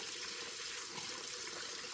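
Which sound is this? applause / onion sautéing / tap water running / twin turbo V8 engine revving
tap water running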